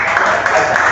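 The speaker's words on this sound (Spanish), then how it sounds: "le damos un fuerte aplauso" Applause from a studio audience welcoming the first guest on a casual podcast, a steady broadband wash of clapping lasting the full second with no pauses, loud and close.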